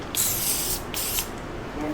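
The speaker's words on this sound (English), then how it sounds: "when I spray paint, I only push down the paint when I'm over the tray" A spray paint can being sprayed onto a TV tray, two quick loud hissing bursts close to the microphone, each lasting about half a second.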